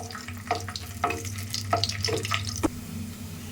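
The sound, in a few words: raisins frying in ghee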